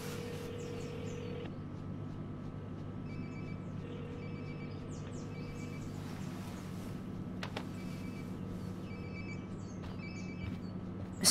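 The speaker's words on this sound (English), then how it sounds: "Sounds like my phone is definitely nearby." A phone rings repeatedly in the Life is Strange: Before the Storm video game, in short regular bursts over a steady low indoor hum, fairly faint and without talk.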